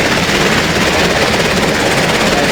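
A helicopter flies over water in the EmergeNYC video game, giving a steady, loud, continuous rotor and engine roar that stays dense and unbroken throughout.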